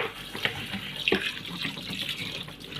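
Raw chicken is rinsed with vinegar under a running kitchen tap, with the water splashing steadily and faint wet handling sounds mixed in.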